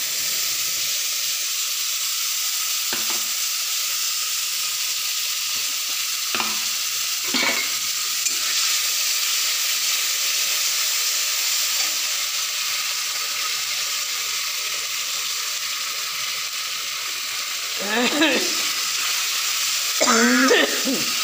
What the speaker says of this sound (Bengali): এবারে আমি আদা জিরা লঙ্কা বাটাটা দিয়ে দিলাম।